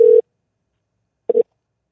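Telephone ringback tone on an outgoing call, two short steady beeps about a second apart, clean and close with silence between.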